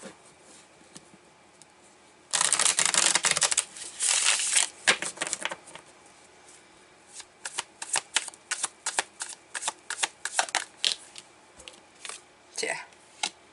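Tarot cards being handled, shuffled and laid out, close and crisp: a long riffling burst, then a series of quick slaps and flicks as cards are placed, with a voice speaking at times.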